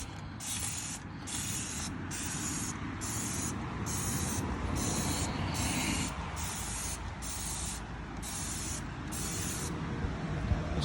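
Platinum Power Wash is sprayed onto a car tire in a run of about a dozen rapid, evenly spaced trigger bursts, each a loud close hiss over steady background noise.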